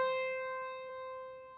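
One piano C played an octave above middle C, a bright single struck note that sustains and gently decays, quiet and alone.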